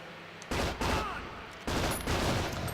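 Gunfire in 007 Agent Under Fire comes in two short, sharp bursts of shots separated by a brief lull, fairly quiet and close, with no talking over it.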